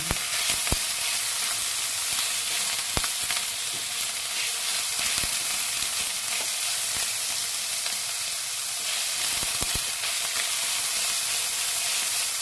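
Pork frying in a pan for a Thai-inspired dish gives a steady, close sizzle while a utensil stirs it, with a few sharp scrapes and clacks against the pan and no talk.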